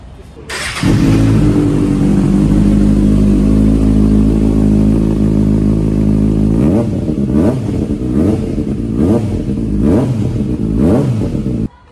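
A Kawasaki Ninja ZX-6R sport motorcycle engine starts and idles with a loud, deep rumble, then gets blipped into a series of sharp, rising revs near the end.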